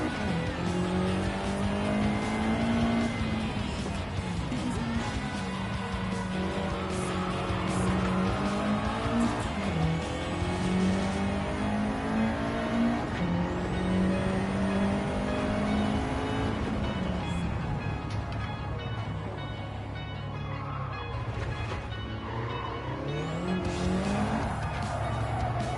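Car engine in Gran Turismo 7 revving steadily with shifting pitch through gear changes, accompanied by squealing tires, continuous and loud throughout with no talk.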